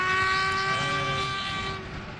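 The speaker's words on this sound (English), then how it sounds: "Two on the whistle from John Stitchbury of the traction engine" A traction engine's steam whistle blows a loud, steady, sustained tone for a couple of seconds, close by, with no talking, at an agricultural show.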